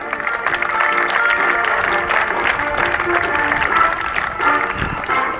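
Spectators clap and cheer at an outdoor international high jump athletics meeting, a steady wash of applause with crowd noise throughout.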